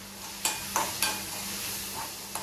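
A spoon stirs Maggi masala, egg, tomato, garlic, salt and turmeric in a pan, giving a few sharp scraping strokes spaced across the moment over a faint steady sizzle, with no voices.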